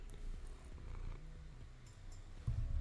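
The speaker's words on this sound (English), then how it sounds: "You don't purr nearly as loud as Shade" A cat purrs softly in a video game, a low, rumbling, fairly faint purr. A brief louder burst comes near the end.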